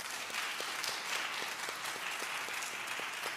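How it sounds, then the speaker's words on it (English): Crowd at a "We The People" event in LA applauding continuously, a thick even patter of many hands with a few sharper individual claps standing out, heard from across the room. "We'll do by clapping."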